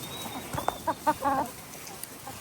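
Chickens on a ranch cluck in a short burst of several quick, close calls, fairly soft against quiet outdoor background.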